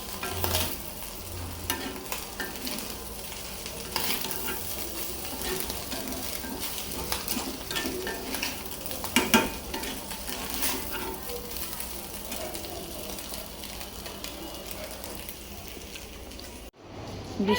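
Food frying in a pan, a continuous crackling sizzle with occasional stirring scrapes, steady and close throughout.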